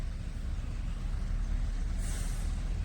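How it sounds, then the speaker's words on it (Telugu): Heavy sand-loading lorries, including a 16-tyre truck, idle and creep forward in a queue with a deep engine rumble, then an air brake lets out a loud hiss about two-thirds of the way through. "లారీలు లైన్ కదులుతున్నాయి. ఇప్పుడే కదులుతున్నాయి."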